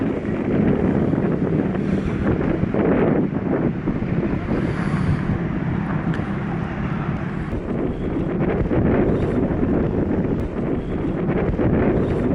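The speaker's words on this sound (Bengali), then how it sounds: "আশা করি হাওয়ার শব্দ শুনে বুঝতে পারছেন যে এখানে কী পরিমাণে হাওয়া হয়।" Strong cold wind roars continuously outside the Netherlands Parliament House, buffeting the microphone in a loud, dense rumble that swells and eases slightly without pause, with no voices.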